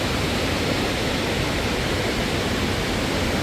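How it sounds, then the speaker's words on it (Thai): A forest waterfall gives a steady, dense, broadband rush of falling water that fills the whole clip without pause and with no voices. "ได้ยินเสียงน้ำตก"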